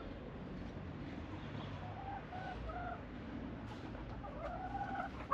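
Chickens and a small young rooster cluck and call in a rural village yard, scattered soft vocalizations over steady low background noise, fairly faint and distant, with no talking.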